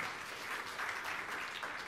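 Church congregation applauding during a sermon, a full, even burst of many hands clapping heard alone at a fairly faint level for about two seconds.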